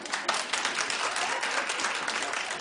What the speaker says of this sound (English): clap if you watched.